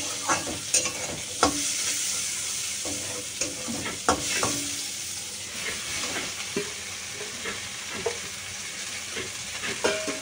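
Jute leaves and jackfruit seeds sizzle in a pan as a utensil stirs them, with repeated close scraping strokes over a steady frying hiss.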